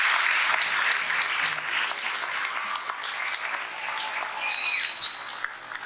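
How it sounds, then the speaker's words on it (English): Steady, full applause from families at an eighth grade promotion ceremony, continuous crowd clapping throughout, with a faint whistle-like tone near the end. "Let's give them all a great big round of applause."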